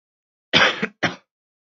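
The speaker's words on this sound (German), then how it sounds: "Entschuldigung bitte, da muss ich mal kurz ein bisschen husten." Two quick bursts of coughing or throat clearing, close and fairly loud, the first longer, the second short, separated by a brief pause with silence around them.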